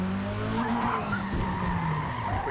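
Car tires skid and squeal through a quick reverse J-turn in the racing game Forza Motorsport 8, a steady loud screech with engine drone throughout, no talking.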